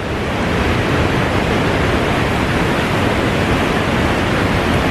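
The waterfalls at Watkins Glen roar as a loud, unbroken rush of falling water that fills the whole scene.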